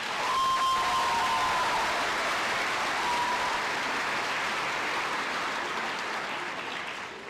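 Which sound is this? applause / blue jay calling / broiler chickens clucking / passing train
applause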